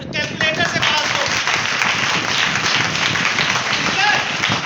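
Students in a classroom at a Vedic mathematics session applauding, clapping for themselves in a dense, steady burst of hand claps with voices mixed in throughout.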